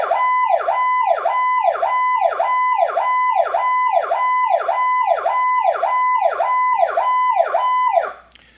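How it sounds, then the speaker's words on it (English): Refurbished X71 single-tone siren on its Power Call tone: a loud, close, rapid rising-and-falling wail that repeats about fourteen times in a steady rhythm, then cuts off abruptly near the end. "It has a 90-day warranty on the working tone of the siren,"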